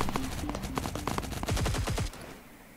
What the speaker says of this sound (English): I definitely saw someone, but I don't know where they're shooting from.